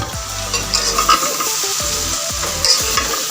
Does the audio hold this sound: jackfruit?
yes